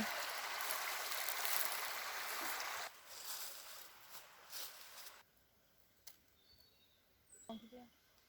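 Rushing water hisses steadily at first, then drops away to a quieter outdoor hush with faint bird chirps and brief rustles.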